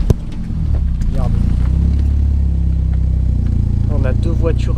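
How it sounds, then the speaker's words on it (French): A car engine pulls hard on a road in Japan, its low drone building and holding steady and loud throughout, with brief voices speaking over it near the end. "j'ai fait mon accélération à la con vite fait"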